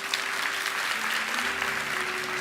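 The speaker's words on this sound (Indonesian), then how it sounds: "Kasih tepuk tangan untuk Tuhan." Church congregation breaks into applause during a sermon, steady dense clapping filling the space with a faint sustained tone beneath.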